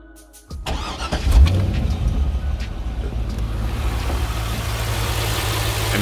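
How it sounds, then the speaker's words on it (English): A C5 Corvette fitted with an MSD 8733 two-step launch controller cranks and fires up, then settles into a loud, steady rumbling idle that carries on alone after the start. "we're going to go ahead and start up the car now"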